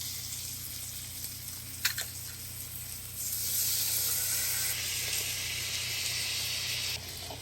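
Salmon with shallots, garlic and lemon juice sizzling in a pan, a steady frying hiss that grows louder partway through, with a few small clicks and no talking.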